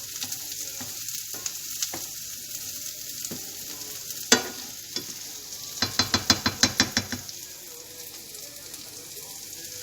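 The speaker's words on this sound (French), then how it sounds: "On laisse mijoter ça un peu. Pas hésiter de temps en temps à bien mélanger le tout." A broccoli filling simmers in a pan with a steady low sizzle, broken by a sharp scrape and then a quick run of rhythmic stirring knocks against the pan, close and moderately loud.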